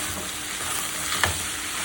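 Food frying in a pan is stirred over a steady, loud sizzle, with a single scrape of the utensil partway through.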